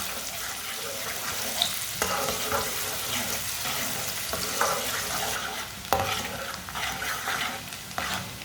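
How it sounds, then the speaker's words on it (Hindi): Finely chopped onion frying in a pan for a restaurant-style chana (cholay) dish, a steady close sizzle with intermittent stirring scrapes and clinks. "प्याज को हल्का सा ब्राउन कर लेंगे।"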